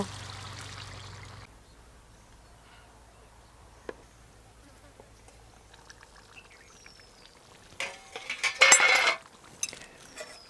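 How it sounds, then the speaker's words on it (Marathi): Water goes into a pot of cooking chicken curry. A low frying hum fades, and after a quiet stretch there is a short, bright splashing pour with a few clinks of the pot. "आता आपल्याला लागते एवढं पाणी टाकतो"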